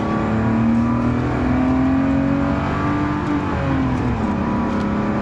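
A BMW E36 driving and cornering hard on a winding road in Belgium, its engine a loud steady drone with sustained whining tones that bend slightly through the turn, heard from inside with no talk.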